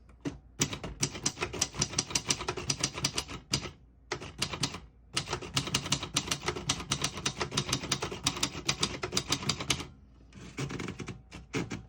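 Typing on a 1965-74 Royal Mercury vintage portable typewriter, rapid bursts of crisp mechanical key strikes close up, interrupted by short pauses between runs of keystrokes.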